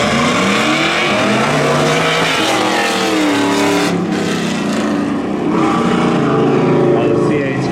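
A C8 Corvette drag racing at a spectator drag event, loud sustained engine roar with rising and falling revs close by, a brief dip midway, and a commentator's voice over it.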